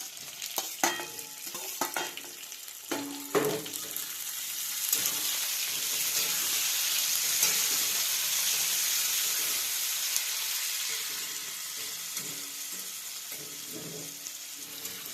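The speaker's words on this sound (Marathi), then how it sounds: "बटाट्याला चांगलं भाजून हलवून घेऊ बटाटा." Potatoes fry and get stirred in a pan while cooking khichdi: steady close sizzling with scraping spatula strokes and clinks, loudest in a sustained hiss through the middle, with intermittent stirring knocks before and after.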